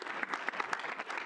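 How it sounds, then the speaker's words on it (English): A student senate meeting audience breaks into brief, moderately loud applause, with many hands clapping in a close, uneven patter and no voices over it. "Round of applause, everyone."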